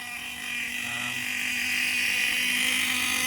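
A K4 6HO RC nitro engine with a new sleeve and piston runs steadily at part load during break-in, a continuous high-pitched buzzing drone that holds nearly constant and swells slightly.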